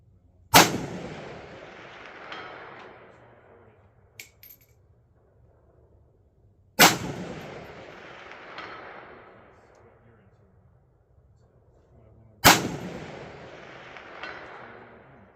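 Three rifle shots ring out from a 7.62x39 rifle firing budget ammunition at a 400-yard target. The sharp, evenly spaced cracks come about six seconds apart, each followed by a long, fading outdoor echo.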